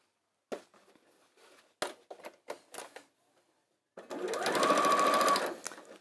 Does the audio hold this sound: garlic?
no